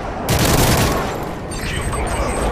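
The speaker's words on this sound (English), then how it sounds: "Friendly airstrike on the way." Friendly airstrike explosions in Modern Warfare 3 multiplayer, a loud dense rumbling barrage of blasts and gunfire that swells quickly and sustains before easing slightly.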